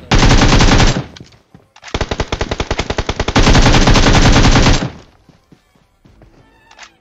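Rapid automatic gunfire from the mobile shooter BGMI rattles loud and close in sustained bursts, broken by a stretch of distinct single shots and followed by quieter scattered game sounds.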